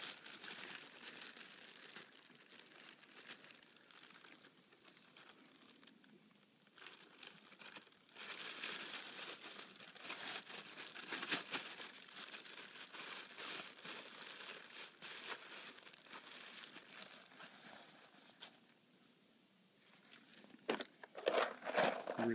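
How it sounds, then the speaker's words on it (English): A plastic bag crinkling as a knife is packed into it outdoors in the Brindabellas, a continuous close rustle and crackle with louder bursts near the end. "I'll put it in a plastic bag."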